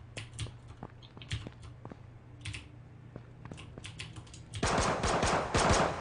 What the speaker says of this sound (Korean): 우리 팀이 쐈어, 방금